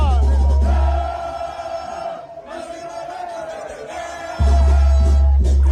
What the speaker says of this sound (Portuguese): se vocês quiserem saber o que a torcida está cantando